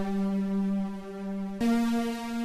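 A Mercury 80 synthesizer plays sustained power-synth chords with a long decay. One held chord rings steadily, then a brighter second chord strikes and slowly fades.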